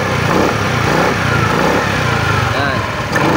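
A used motorcycle's engine runs close by, a steady mid-pitched drone with slight swells as the throttle is blipped, heard throughout the short stretch.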